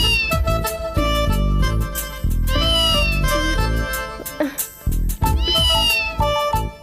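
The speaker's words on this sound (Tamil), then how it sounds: "என்னடி இங்கேயும் பூனை சத்தம் கேக்குது?" A cat meows loudly and close by in several drawn-out, rising and falling cries, with short pauses between them and voices mixed in.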